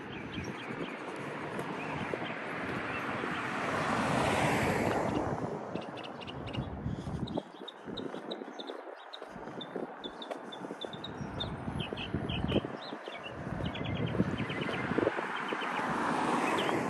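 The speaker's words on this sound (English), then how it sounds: "A little bit of wind out here too, so hopefully the noise isn't too bad." Outdoor wind buffets the microphone along a downtown Bowling Green, Kentucky street, a continuous rumbling roar that swells and dips in gusts, with faint chirps and distant traffic underneath.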